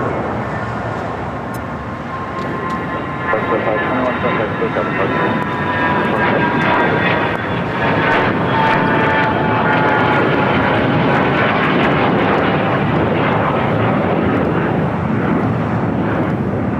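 A China Eastern airliner taxis at LAX, its engines giving a sustained broad roar with thin whining tones that rise and settle, loud and fairly near, with a voice faintly present.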